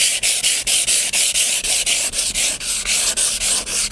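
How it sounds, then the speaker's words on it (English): Sandpaper rubbed by hand across metal skylight flashing on a roof, producing close, steady back-and-forth scraping strokes in a quick, even rhythm of about four strokes per second. "Then I use a little bit of sandpaper,"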